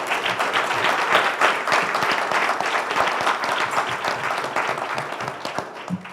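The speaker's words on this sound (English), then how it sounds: "we'll just call that the round of applause for everybody" Audience applause at a 2016 school board and city commission candidates' forum: dense, sustained clapping from a full room, loud and steady for about six seconds with no talk over it.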